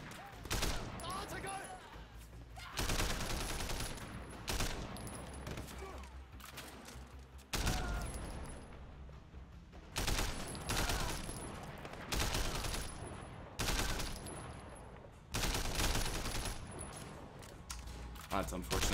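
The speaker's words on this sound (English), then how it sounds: "Oh, stop shooting my teammate." Bursts of gunfire in Sleeping Dogs Year of the Snake, loud repeated volleys of rapid shots broken by short pauses, with a player talking between and over them.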